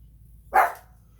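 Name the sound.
dog barking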